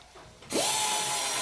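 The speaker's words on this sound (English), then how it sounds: "the carbide burr is important at this stage for removing material" A carbide burr on a power tool porting a Ducati 4V cylinder head, spinning up abruptly into a loud, high, steady whine that grinds at close range without pause.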